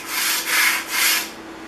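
A metal scraper rubbed back and forth on 150 grit sandpaper, giving three steady abrasive strokes of gritty hiss, close up with no voices.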